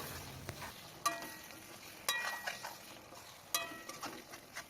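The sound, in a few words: frying potatoes with spices and mutton fat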